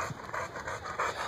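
Dog panting in quick, steady breathy bursts, close to the microphone, with no talking over it.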